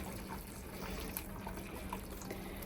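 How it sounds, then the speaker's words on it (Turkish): Hot brewed tea pours over a cup of sugar for a watermelon iced tea, a steady, soft, continuous watery rush with no break and no voices. "Ve demlenmiş olan çayımızı da döküyorum ki onun sıcaklığı ile erisin şekerimiz."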